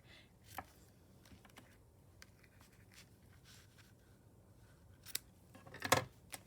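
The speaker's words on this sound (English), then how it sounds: "You're going to take your paper snips, and then you're just going to make this a diagonal cut" Paper snips making a diagonal cut through card stock on a gilded cased card, a few quiet, crisp snips and clicks, with one sharper cut near the end, heard close against a faint background.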